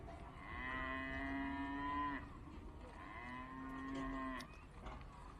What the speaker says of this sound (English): The fresh cattle are coming into the cutout yard.